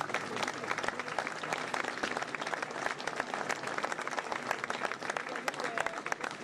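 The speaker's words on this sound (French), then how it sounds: "On peut l'applaudir" Audience applause at a Tram B event, a dense, steady wash of many hands clapping that holds evenly for the full stretch without pause.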